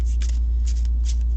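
Tarot cards being shuffled overhand, close and loud, a quick series of soft papery riffling bursts with no talking over a steady low hum.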